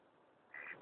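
Ducks on Lake Geneva give one short burst of quacking against steady open-air background noise. The call is faint and arrives near the end.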